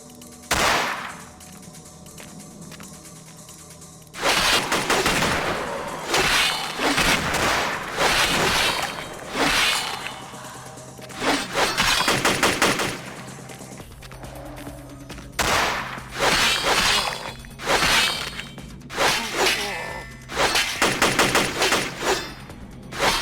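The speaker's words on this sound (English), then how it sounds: "I don't know who is shooting right now or why." Gunfire in Vampire The Masquerade Bloodlines: after a quiet opening shot, loud bursts of rapid shots crack in irregular clusters, pausing briefly and resuming, sharp and close.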